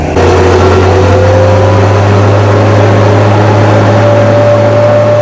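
Armored military vehicle engine in top gear on a suburban Nashville street, a loud, steady low droning roar close by, with a whining tone that rises gradually as it picks up speed.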